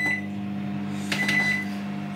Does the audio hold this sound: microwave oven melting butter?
yes